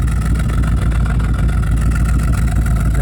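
A Jensen Healey V8 idles close by, a steady low mechanical burble with a faint rhythmic tick running through it, continuous and unbroken.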